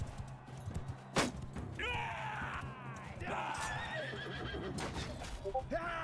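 A horse neighs in a Mount & Blade II: Bannerlord battle, two loud whinnies amid clattering combat noise, hoof thuds and sharp impacts, with a voice heard intermittently.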